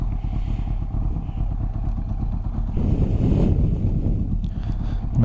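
A motorcycle engine idles and rumbles as picked up by a helmet-mounted microphone, with wind buffeting the mic and a louder surge of noise partway through.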